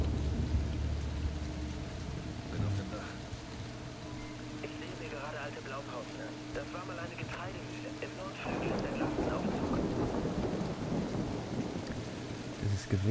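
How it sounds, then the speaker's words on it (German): Steady rain hiss with rolling thunder rumbles from a thunderstorm in the video game Splinter Cell Blacklist, on rooftops, under occasional game sound effects and faint voices. "Gewitter ist ein bisschen störend."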